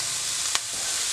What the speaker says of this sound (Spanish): Ya se acitronó la cebolla con el ajo.